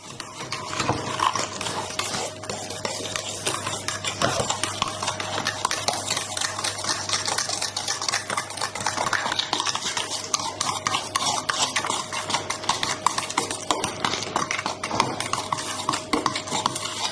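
Eggs and sugar are whisked in a bowl, with a continuous fast, rhythmic scraping and clinking of a utensil against the bowl, close and steady throughout.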